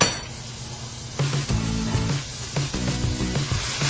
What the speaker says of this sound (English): Then I'm gonna add a tablespoon of margarine or butter.